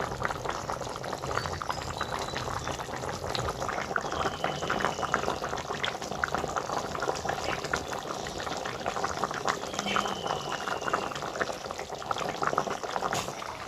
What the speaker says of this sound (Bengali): এবার আমি পটলটা পাঁচ মিনিট ফুটিয়ে নেব